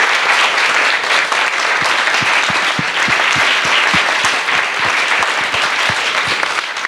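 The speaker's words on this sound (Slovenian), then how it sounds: "En aplavz za vse skupaj." An audience at a film festival screening applauds the film crew, loud, dense clapping with a few distinct sharp claps standing out. The applause runs steadily and close for about seven seconds with no voices.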